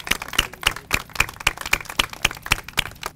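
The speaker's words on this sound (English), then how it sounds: "we really give them so much thanks and a big round of applause" Applause from an audience at a civic celebration, a steady run of rhythmic claps with sharp regular peaks lasting a few seconds, moderately close and with no talking over it.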